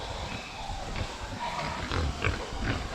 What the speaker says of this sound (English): find back your pigs, because them buggers have grown in the fortnight they've been here